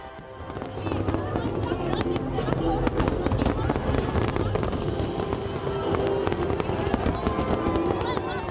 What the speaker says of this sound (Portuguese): Maior queima de fogos assim que tem aqui do Brasil.